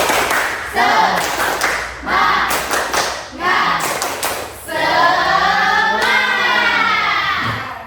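An Indonesian school class claps in a brisk rhythmic chant, several sharp bursts of hands in a classroom, followed by voices talking.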